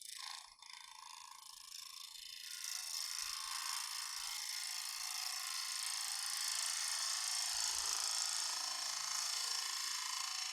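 A wood lathe cutting a hollow form gives a steady high whirring hiss of the tool on spinning wood that rises after a couple of seconds and holds close and even, with no talking.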